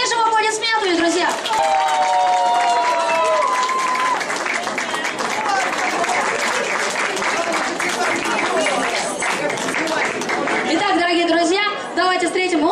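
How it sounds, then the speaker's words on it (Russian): Sustained applause from a large audience at an outdoor Cossack culture festival, dense and loud clapping that continues steadily throughout, with crowd chatter and an occasional voice mixed in. "Поддержим аплодисменты, друзья!"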